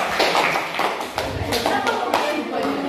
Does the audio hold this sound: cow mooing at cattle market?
no